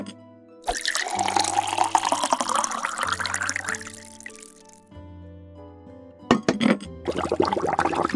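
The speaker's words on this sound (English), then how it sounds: "Can you help Mrs. Potts pour some tea?" Tea poured from a teapot in a cartoon, a continuous liquid splashing and trickling over a musical backing, a pause, then a short burst of pouring again.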